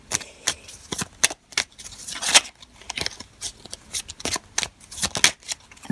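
Victorian oracle cards being shuffled by hand, a run of quick crisp riffling bursts and flicks in an uneven rhythm, close and clear with no talking.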